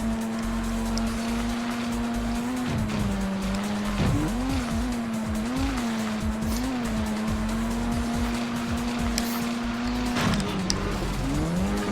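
Snowmobile racing engine in the game Snocross Championship Racing, a steady buzzing whine that rises and dips through turns, with squealing skids on ice over a continuous loud drone.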